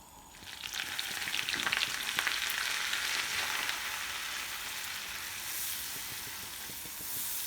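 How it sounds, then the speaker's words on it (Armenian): Flour frying in butter in a pan on the stove, a steady close sizzle and hiss that swells early and then holds on, with no talking. "ալյուրը տապակեցի ջուղի մեջ, կարագի մեջ, տապակեցի կամ բովեցի"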